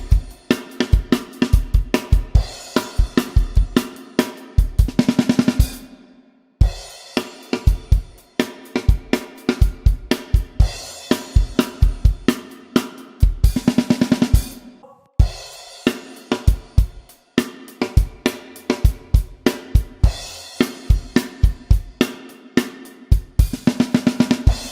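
Drum kit pounding through the outro of a song, dense fast hits with crashing cymbals and driving kick and snare, loud and close, broken by two brief stops before the beat slams back in.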